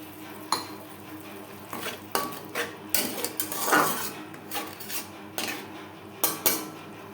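Spice paste is stirred and sautéed in a pan over low to medium flame for a Bengali fish curry with potatoes and green banana, with close, intermittent clinks and scrapes of a spoon against the pan.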